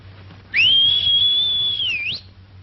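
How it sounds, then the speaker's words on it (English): A single long, steady human whistle calling a horse in a 1943 Western, holding one clear high pitch for about a second and a half before a quick upward flick, over a low background hum. "Give him a whistle."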